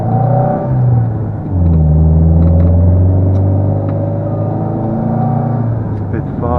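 A Cosworth car engine idles and then pulls away as it is put into first gear, with a steady low rumble and a rising hum. The engine runs loud and close throughout, and someone talks over it.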